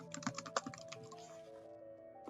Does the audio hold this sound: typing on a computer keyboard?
yes